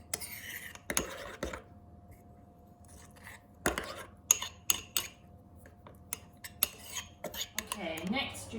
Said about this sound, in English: stir your passata, your oregano and your garlic mixture